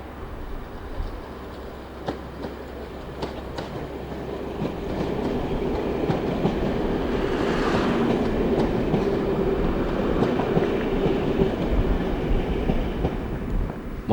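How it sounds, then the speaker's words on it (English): A DMU diesel train runs on the Conway Valley branch line, first a low rumble, then growing louder with a steady engine drone and wheel clatter on the rails, sustained through to the end. "DMU still work most of the Conway Valley trains, including our old friend Dolly,"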